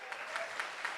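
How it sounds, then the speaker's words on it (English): A brief burst of applause, a crowd clapping in a steady wash with a few louder claps standing out, moderately faint. "can we please give young Bradley a loving round of applause?"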